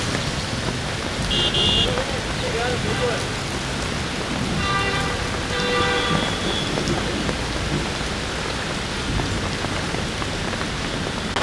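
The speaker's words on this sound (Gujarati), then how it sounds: "અમદાવાદમાં પણ ધોધમાર વરસાદની શરૂઆત થઈ ગઈ છે" Steady heavy rain pours down in Ahmedabad with a constant dense hiss, a faint rumble of thunder underneath and a few brief distant tones.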